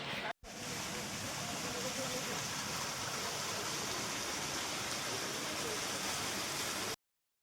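Katramala waterfall near Phulabani produces a steady, loud rushing roar of falling water that runs unbroken for several seconds after a brief cut.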